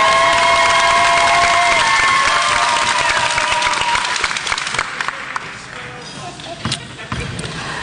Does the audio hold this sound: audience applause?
yes